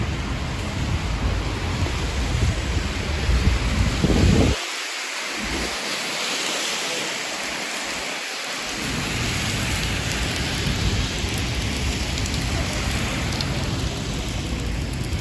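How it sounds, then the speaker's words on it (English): Heavy rain pours during a thunderstorm on a Midtown Manhattan street in New York City, a loud, dense hiss with deep thunder rumbling in the middle, then steady downpour continuing alone. "have a good week and cover yourself from the rain."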